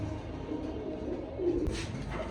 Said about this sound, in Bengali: এখানে একটা আছে মন্ডিয়ার নর কবুতর, দেখেন এটা নন স্টপ ডাকে